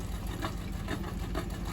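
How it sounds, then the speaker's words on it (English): A van engine idles steadily in a flooded riverside setting, a low, even rumble with faint pulsing and no talk over it. "The van is running, and I've got battery in the van."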